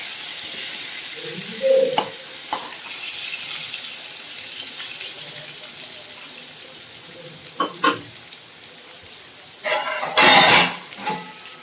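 Pointed gourd (potol) pieces frying in oil in a wok, a continuous close sizzle broken by several clattering flips and scrapes, the loudest near the end.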